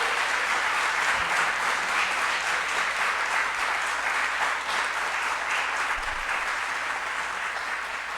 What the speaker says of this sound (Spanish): Vamos a darle otro buen aplauso a ellos.